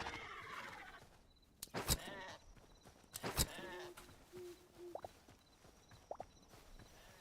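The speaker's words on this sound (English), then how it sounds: "There's some sheep." Sheep in the game Hytale give a few short, separate bleats at mid distance amid outdoor game ambience and scattered sharp effects.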